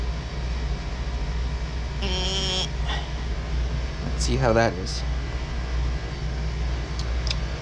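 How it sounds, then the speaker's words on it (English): A room heater runs steadily as a low, constant hum throughout, with a person speaking briefly over it and a few short clicks and tones. "Sorry about the heater noise."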